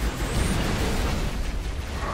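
A grenade explosion in the video game Halo: Reach, a dense, sustained roar of blast noise filling the whole moment with no clear break, loud and close.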